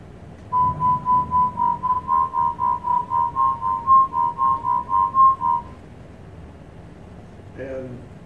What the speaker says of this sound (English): Throb 4.